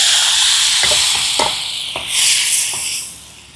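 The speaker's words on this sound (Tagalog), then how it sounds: "Gigisahin ko lang ho ng kaunti itong bagong para mas mabango." Bagoong shrimp paste sizzles loudly in a pan over an outdoor cooking fire, a steady bright frying hiss broken by a few scraping stirs of a utensil.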